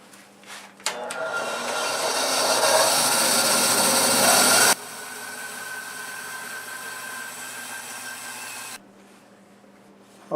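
A band saw runs and bites into a wooden bowl blank riding on a sled, with a loud, rising cutting whine for a few seconds, then a quieter idling hum before it cuts off.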